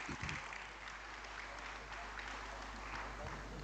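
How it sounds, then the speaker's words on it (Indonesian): Applause from a seated audience at a formal Indonesian ceremony honouring a group of women, a steady dense clatter of many hands filling the room at moderate distance. "Semua kita tepuk tangan untuk Ibu Sri Kandi."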